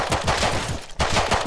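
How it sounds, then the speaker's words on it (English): Rapid gunfire in the survival video game Rust, a dense burst of loud repeated shots with a brief gap near the end before firing resumes. "I shot him."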